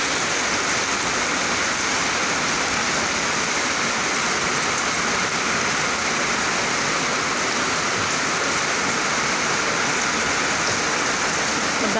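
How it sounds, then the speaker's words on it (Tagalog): Heavy rain pours down steadily on an afternoon in Hin Pei Village, Tung Chung, a dense, even roar of water hitting surfaces that continues unbroken throughout. "Daming sinampay, tapos biglang umulan ng malakas."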